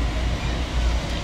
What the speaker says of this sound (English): Just got on the train.